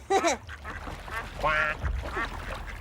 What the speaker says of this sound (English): Duck, look.